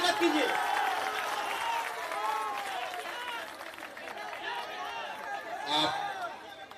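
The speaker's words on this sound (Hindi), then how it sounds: "एक बार जोरदार ताली से उनका स्वागत कीजिए" Crowd clapping and cheering at an outdoor political rally in Manihari, a broad continuous roar of applause that stays loud throughout, with voices mixed in.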